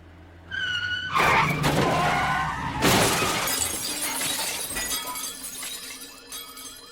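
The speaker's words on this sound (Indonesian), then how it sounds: "Namun naas, mereka mengalami kecelakaan lalu lintas." Car crash in a film: a loud impact and burst of shattering glass, followed by a second crunching hit and tinkling debris settling, with no speech.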